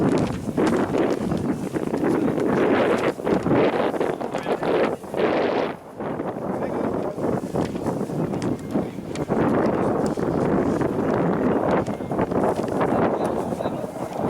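Strong wind roars across the microphone at a paragliding meet in Pons, heavy continuous gusts with a deep rumble, briefly easing midway before picking up again.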